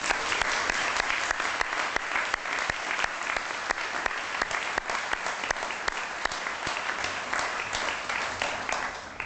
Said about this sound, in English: I hope everyone will join me in another round of applause